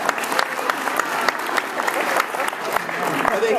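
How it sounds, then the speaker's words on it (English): A room of guests applauds at a Family Star Curtis Park ribbon cutting, dense steady clapping with sharp individual claps standing out, loud and continuous, some voices under it. "join me in giving them a round of applause"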